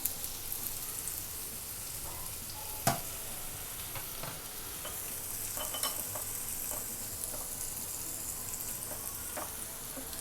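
Masala-coated pineapple slices, with sugar in the masala, sizzle on a hot tawa pan with a steady, quiet crackle, punctuated by a sharp clack near the start and occasional small pops and taps.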